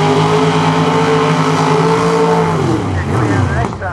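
Drag race cars run side by side down the strip in round one eliminations, engines roaring loud and close with steady harmonics that shift in pitch as the cars pull away near the end.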